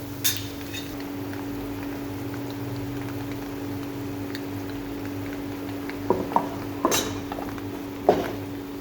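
Dates stirred in hot oil in a pan with black and white sesame seeds, chili powder and salt for chutney, a steady sizzling hiss with a constant hum and a few scraping clinks near the end.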